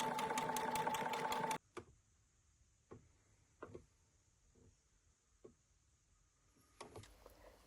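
A sewing machine fitted with a standard zip foot stitches down the middle of zip tape for a gathered skirt, running in a steady, fast, buzzing burst for about a second and a half before stopping, followed by a few faint clicks and taps.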